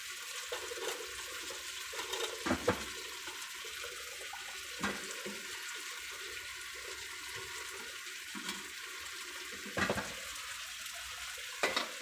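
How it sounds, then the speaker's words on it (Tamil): Cauliflower, tomato and capsicum sizzle faintly in a pan while being stirred, with a soft continuous frying hiss broken by a few light scraping clicks, and no voices. "அது கொஞ்சம் வேகட்டும், கிளறி விடும்."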